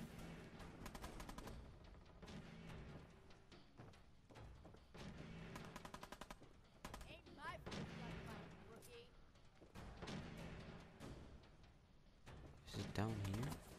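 Rapid gunfire bursts and scattered shots from combat in the video game Fallout 4, dense and continuous with booming impacts, a voice talking over parts of the action.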